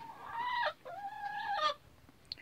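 Young chickens give two drawn-out, wavering calls, each about half a second long, close and fairly clear against a quiet background, followed by a short faint chirp.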